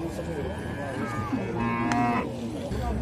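A cow lowing amid a busy livestock bazaar, with one clear drawn-out moo rising over steady crowd murmur and other animal noise.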